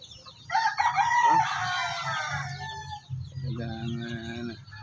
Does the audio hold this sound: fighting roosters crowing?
yes